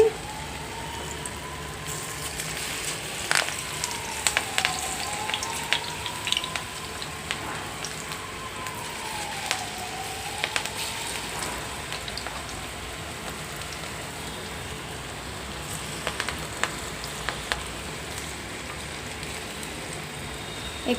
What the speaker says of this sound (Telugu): ఇప్పుడు ఆయిల్లో వేసుకుందాం సిమ్లో పెట్టి వేయించాలండి